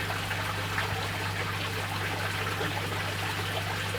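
Water trickles and gurgles steadily into an aquarium holding yellow sakura shrimp, a constant close wash over a low electrical hum from tank equipment, with no talking.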